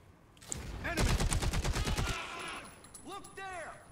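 Gunfire in the video game Caliber: a rapid burst of loud automatic shots crackling for about a second, then a quieter shot and a brief tonal game effect afterward.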